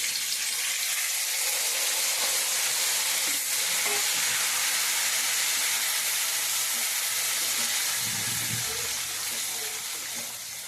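Tamarind pulp sizzles and fries loudly in a hot pan, a dense continuous crackling hiss with brief stirring knocks, tapering slightly at the end.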